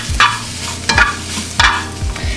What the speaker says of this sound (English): then you just add them to the saute with the onions and the garlic